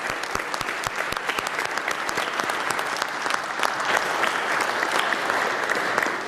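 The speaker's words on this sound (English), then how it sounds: "Could we give them a round of applause, please?" Sustained audience applause fills a hall at Pennsylvania's Electoral College vote ceremony, a dense steady wash of many hands clapping with no speech over it.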